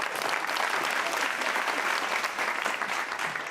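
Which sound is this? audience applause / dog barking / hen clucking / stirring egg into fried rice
audience applause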